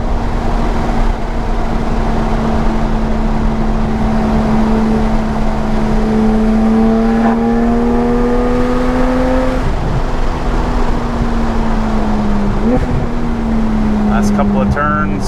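Porsche 911 GT3 driven hard during the Fall Smokies 2017 drive, heard from inside the cabin as a loud, sustained engine drone whose pitch climbs steadily and then drops at a shift or lift, with brief rises and falls near the end.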